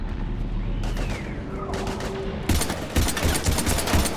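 Rapid bursts of gunfire from the Mass Effect 3 sci-fi shooter, a loud clattering volley in the second half after a quieter stretch of battle noise with a rising whine.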